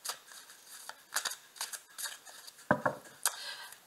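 A tarot deck being cut and handled: a few close, crisp card slaps and papery clicks in uneven bursts, with a quiet pause between handlings.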